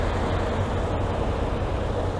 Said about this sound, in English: The Seoul City Tour Bus is pulling in.